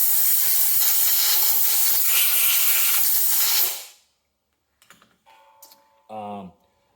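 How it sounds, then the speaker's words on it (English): Compressed air blasting into a Craftsman electric motor: a loud, continuous hiss for about four seconds that cuts off abruptly, followed by faint handling clicks and a short rattle. "Gonna hit it with a little compressed air."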